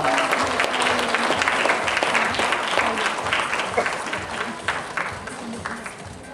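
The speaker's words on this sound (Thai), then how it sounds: "ขอเสียงปรบมือให้กับพี่จับเลยครับ" An audience applauds for a vice president of operations at an SM True event in Thailand, a dense, sustained burst of clapping with some crowd murmur and a voice briefly audible underneath.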